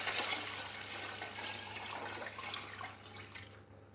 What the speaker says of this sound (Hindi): मैंने इसमें सारा दूध डाल दिया है